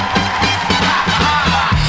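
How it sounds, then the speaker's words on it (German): An audience at a live stage show claps and cheers, a dense, steady crowd roar with low, droning voices mixed in, fairly loud and continuous for about two seconds. "Applaus"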